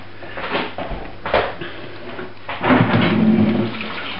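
Running water rinses a freshly filleted bass at close range, a steady splashing wash with a few clunks of handling and a louder surge of flow near the end.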